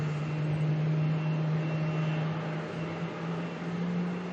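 Airbus A320 airliner passing overhead near Melbourne airport, a steady broadband jet roar with a low engine hum running throughout, moderately loud and unbroken, with no voices.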